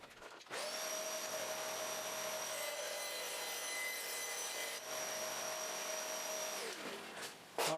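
Band saw fitted with a half-inch blade making a test cut through a piece of scrap wood, a steady loud whine with a tonal hum that starts abruptly, holds for about six seconds, then winds down.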